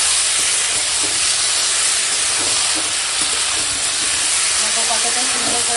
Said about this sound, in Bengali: ভালো করে একটু মশলার সঙ্গে সব কষিয়ে নেবো